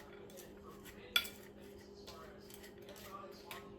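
A spoon stirs brown sugar and nuts in a bowl, giving quiet scraping and soft clinks, with one sharper knock of metal against the bowl. A voice is heard briefly in the background.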